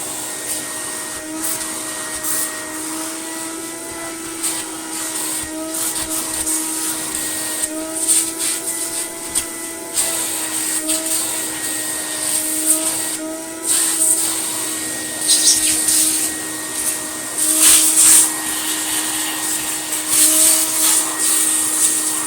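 A Hoover Freedom FD22RP cordless vacuum cleaner runs steadily with a high whine and airy roar, its pitch shifting slightly as it moves, close and loud throughout.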